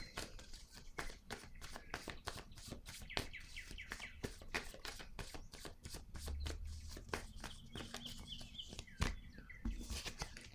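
Tarot cards being shuffled for a card reading, a quiet, steady run of soft rapid riffles and flicks with no voice over it.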